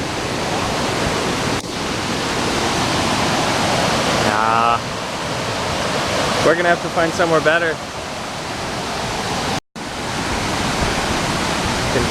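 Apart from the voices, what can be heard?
waterfall on a hiking trail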